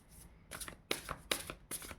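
Cards from a crow tarot-style deck are shuffled and drawn by hand, four or five quick crisp riffling bursts in two seconds, close but very quiet, with no talking.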